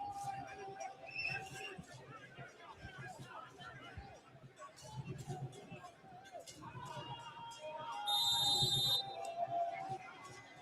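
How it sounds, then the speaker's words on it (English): A referee's whistle shrills briefly and loudly over crowd noise at a Ghana Premier League football match between Berekum Chelsea and Medeama SC, with a commentator talking throughout. "Referee whistles."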